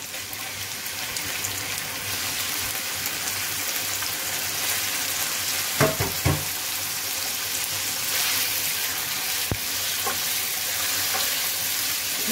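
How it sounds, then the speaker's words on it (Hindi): Chicken pieces frying in a pot for chicken cream handi, a steady close sizzle throughout with a couple of brief clatters near the middle and a sharp knock later, no talking. "अब मैं चिकन ऐड करूंगी इसमें।"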